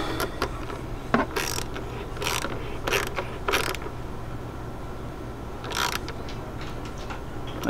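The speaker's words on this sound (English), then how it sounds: "Now I'm gonna tighten it down with the ratchet." A hand ratchet tightening an 8mm bolt during a cold air intake install on a Honda Civic Si, with several short clicking bursts of the pawl, close and clear over a low hum.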